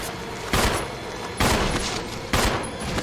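Three loud, evenly spaced gun blasts go off in a Resident Evil game, each a heavy broadband boom with a short tail, close and dominant over a dull ambient background.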